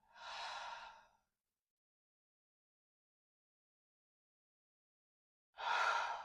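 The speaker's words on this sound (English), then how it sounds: "Deep breath in and out." Two slow breaths during a triangle-pose yoga practice, each a soft, airy exhale or inhale of about a second, close and clear, separated by several seconds of silence.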